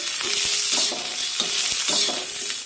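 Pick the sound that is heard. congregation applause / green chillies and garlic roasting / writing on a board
green chillies and garlic roasting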